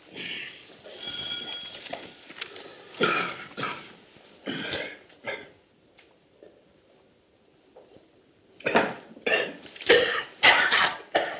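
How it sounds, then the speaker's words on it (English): A man coughs repeatedly in harsh, rough bursts, clustered at first, then a quiet pause, then another run of hacking coughs, close and loud. "He's been coughing like that all day."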